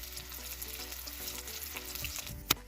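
Chicken pieces frying in hot oil for chilli chicken in a home kitchen, a steady bubbling sizzle with a sharp clink near the end, fairly quiet and close, no talk.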